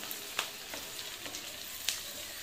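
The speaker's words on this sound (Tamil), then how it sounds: "இப்போ டொமேட்டோ போட்டு அதை வதக்கணும்" Tomatoes sauté in a pan for tomato thokku, a soft continuous sizzle with a few light stirring ticks, close but fairly quiet, with no talk.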